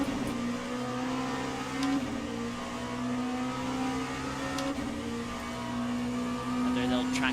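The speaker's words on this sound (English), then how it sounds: "we've got now 2 hypercars coming through" Le Mans hypercars, a Lamborghini and a Porsche among them, roar past on circuit with a sustained, steady engine drone that holds at one level throughout, while faint commentary runs underneath.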